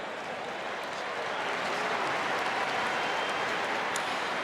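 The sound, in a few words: crowd applauding the All-Stars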